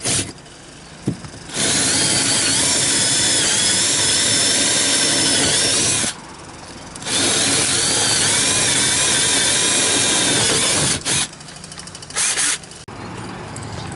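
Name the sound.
power drill drilling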